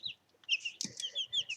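Young chicks in a chick plate brooder give a quick run of soft, high chirps and clucks, close and fairly quiet, with one brief fuller call near the middle.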